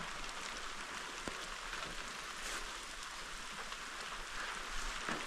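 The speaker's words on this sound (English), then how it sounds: "You can hear the rain if I shut up" Rain falling outside a lean-to shelter at Hopewell Lake, a soft, steady hiss of drops with occasional faint taps, quiet and continuous with no talking.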